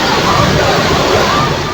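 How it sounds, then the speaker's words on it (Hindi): Floodwater rushes through the overflowing drain by the Khobavir temple in Mount Abu after heavy monsoon rain, making a loud, dense, unbroken roar of churning water up close. "खोबावीर मंदिर का नाला पूरी तरह उफान पर नजर आया।"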